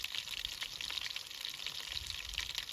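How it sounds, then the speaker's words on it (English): Steady, crackling sizzle of perch and bass frying in a pan, soft and continuous with faint pops throughout. "Frying up the fish here."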